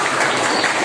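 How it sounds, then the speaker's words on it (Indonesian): Brief burst of dense, even applause from a class of students, loud and steady with no talking over it. "Kasih tepuk tangan."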